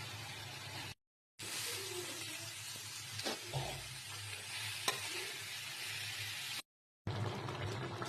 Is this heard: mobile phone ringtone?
no